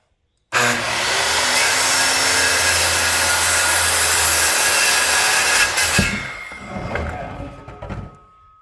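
A power saw cuts a board for shed floor joists. It runs loud and close in one steady continuous cut of about five seconds, then winds down and stops.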